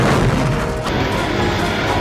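Explosions and gunfire tear up the ground around a shallow trench in a Rambo film battle against Soviet armor, forming a loud, dense, continuous roar of blasts and debris with no clear gaps.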